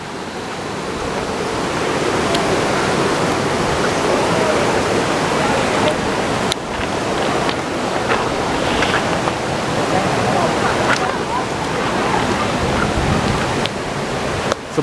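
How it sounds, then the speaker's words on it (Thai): Nang Rong waterfall in Nakhon Nayok, Thailand, roars with a steady, loud, broadband rush of falling water that fills the whole span, with faint voices and footsteps barely audible beneath. "นี่นะฮะ น้ำตกนางรองนะฮะ"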